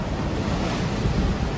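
Rough open-ocean waves and strong wind roar steadily around a sailing boat rolling mid-ocean, a dense, loud wash with no voices.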